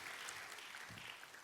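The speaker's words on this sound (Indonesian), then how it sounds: "Ayo tepuk tangannya yang paling meriah buat Tuhan kita." Church congregation clapping during a worship service, a full, steady wash of applause from many hands, faint and distant in the room.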